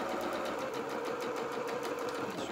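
A sewing machine stitches a shirt side seam in a fast, steady whirring run, heard close and alone without pause.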